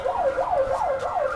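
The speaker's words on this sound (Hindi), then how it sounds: "आप देख ही सकते हैं यहाँ पर साइरन बज रहा है" A wailing siren sounds at Delhi's Chor Bazaar street market, rising and falling in a quick steady cycle, loud and near, with faint street noise underneath and no talk.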